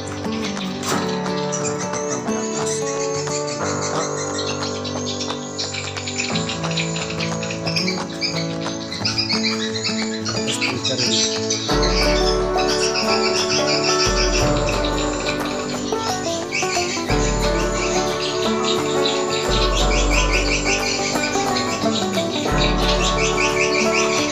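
Swiftlet calls play in a swiftlet house, a dense, continuous chorus of chirps and twittering that stays loud and layered throughout, with a deep rhythmic thumping pulse joining in partway through.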